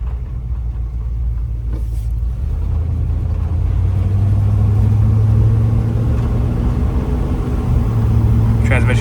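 A 1977 Chevy C10 truck with a 454 engine and Holley Sniper 2 EFI rumbles loudly from inside the cab while driving, its low engine note climbing and settling as the transmission shifts, with someone talking over it.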